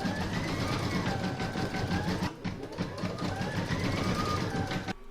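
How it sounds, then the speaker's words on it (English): Rapid rhythmic whirring and needle chatter of an embroidery machine stitching golden yellow thread into the eyes of a cat bookmark, close and steady, with a brief pause midway and a stop near the end. "I'm now going to stitch the colour in the eyes"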